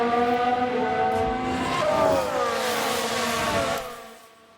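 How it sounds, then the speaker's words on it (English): Race car in F1 Manager 2022 locking up its tires, a loud sustained engine whine with a sharp tire squeal and skid sliding downward in pitch, then fading away after about four seconds. "Oh, big lock up there."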